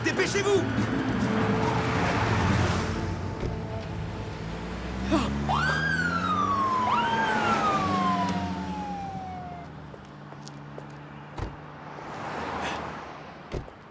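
Police car sirens wail and sweep in a TV drama chase scene, rising and falling over engine rumble and general commotion, with voices heard in the background.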